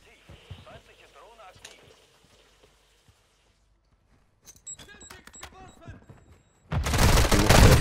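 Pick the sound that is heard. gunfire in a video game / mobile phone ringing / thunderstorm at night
gunfire in a video game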